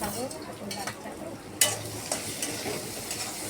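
Chopped green chilli frying and being stirred in a pan, with a steady close sizzle and a few sharp scrapes of the spoon against the metal.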